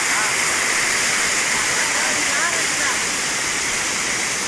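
In a forest near Malad, a waterfall pours straight down into a deep pool, giving a loud, steady rushing roar that fills the whole span without a break.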